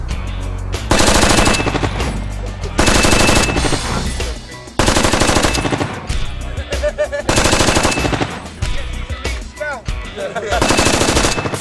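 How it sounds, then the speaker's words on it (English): A 30 cal minigun fires blank rounds in several long, roaring bursts separated by short pauses, loud and close with dense rapid reports. "something like the chain gun or the minigun, call it what you want, it's a 30 cal weapon"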